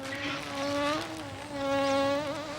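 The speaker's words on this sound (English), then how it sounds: "What's that noise? That's only a bee." A bee buzzes close by in a loud, sustained drone that wavers in pitch as it moves, rising and dipping over a few seconds with no other sound.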